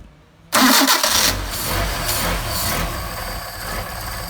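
A car engine fitted with Solex carburettors cranks and fires abruptly after a brief quiet moment, then settles into a loud, close, steady idle with a slight rise toward the end.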